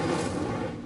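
An Incendio fire spell cast in Hogwarts Legacy, a brief, soft whooshing roar of flame with a low rumbling body, fading slightly over a second.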